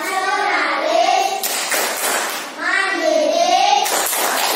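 Standing schoolchildren in an Indonesian Pancasila class perform the PPK clapping chant, their unison chanting rising and falling between bursts of clapping, loud and near in the room.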